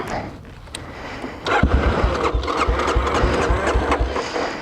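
An Aprilia Pegaso 650 motorcycle engine cranks and catches, then settles into a steady, close idle with a throbbing low pulse and no talk over it.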